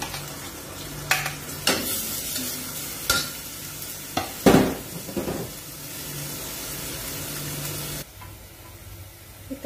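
Garlic and chopped onion sizzle and fry in a pan for a molokhiya dish, with a utensil repeatedly stirring and scraping in sharp bursts over steady frying hiss, close up and without talk.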